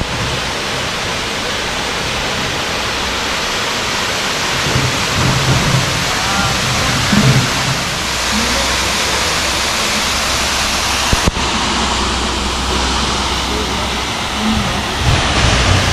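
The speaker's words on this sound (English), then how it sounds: "I'm showing them the first waterfall that's on the outside" Small waterfall at Annandale, Grenada, a loud, steady broadband rush of falling water heard close up and continuous, with a brief knock partway through and no talking.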